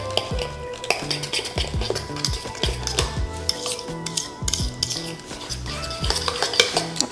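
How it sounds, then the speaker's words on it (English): Steady scraping and tapping of a fork stirring thick cornbread batter in a bowl, with rapid rhythmic clicks against the sides, close and alone. "Just mix it up real good."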